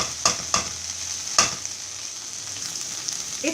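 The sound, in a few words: okra frying and being stirred in a pan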